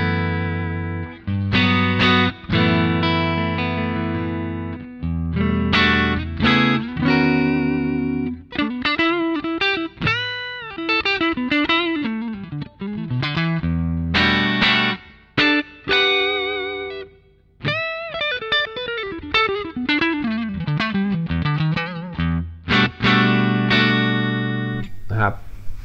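Distorted electric guitar played through a Boss GT-8 multi-effects unit and Palmer PDI09 speaker simulator, a loud, continuous run of choppy riffs and sustained bending lead notes with brief pauses.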